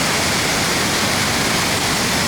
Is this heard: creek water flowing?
yes